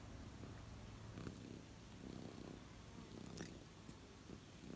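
Soft, continuous purring from a cat, close and quiet, with a steady low rhythmic rumble and no talking.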